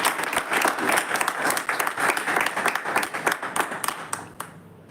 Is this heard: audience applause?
yes